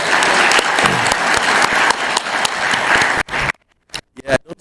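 A conference audience at a Scout plenary session claps steadily in dense, loud applause for about three seconds. The clapping then breaks off into a brief lull before a few scattered, sharper claps follow.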